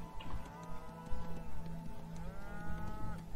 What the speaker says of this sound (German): Und da steht eine Kuh. Eine gruselige, einsame Kuh.